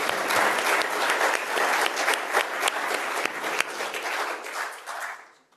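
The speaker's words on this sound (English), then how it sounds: "Give them another round of applause" At a World TB Day symposium, the audience applauds the session speakers and co-chair, a moderately loud, continuous spell of clapping with some sharper individual claps that gradually tapers off toward the end.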